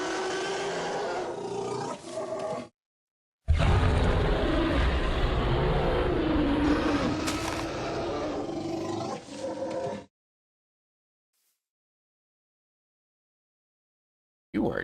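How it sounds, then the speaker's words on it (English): A small Jurassic Park-style T.rex in a Minecraft dinosaur mod gives loud, rumbling roars in two long bursts separated by a short pause, followed by silence. "Little Jurassic Park T.rex roars over here"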